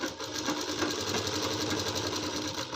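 A sewing machine runs steadily and loudly, stitching a shoulder seam on a child's kurti for a 7–8-year-old girl, its rapid even needle clatter going nonstop without pauses.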